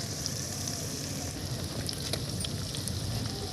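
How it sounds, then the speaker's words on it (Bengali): Ginger garlic paste frying in a pan for chicken kosha, sizzling steadily and close with scraping spatula strokes as it is stirred, no voices. "এখন আবারও নেড়ে নিচ্ছি খুন্তির সাহায্যে"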